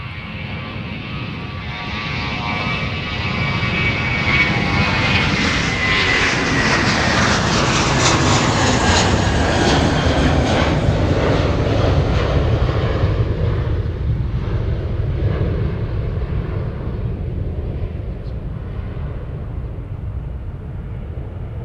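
An American Airlines jet departs Twin Cities airport (MSP) bound for Phoenix. Its loud, broad engine roar swells over several seconds, holds steady, then eases slightly as the plane moves off, with no talking.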